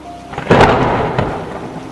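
A sharp, loud thunderclap cracks and rumbles over steady rain during a thunderstorm, fading slowly over a couple of seconds with no voices.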